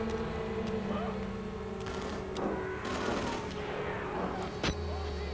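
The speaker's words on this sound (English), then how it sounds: "Someone's shooting." Rapid gunfire in the horror video game Outlast Whistleblower, bursts of shots crackling over a dense droning game soundtrack, with one sharper crack near the end and no talk over it.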